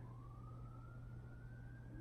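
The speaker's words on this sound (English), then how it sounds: "I don't know if you can hear that, but that's a" A distant fire truck siren wails, rising slowly in pitch, faint over a steady low hum.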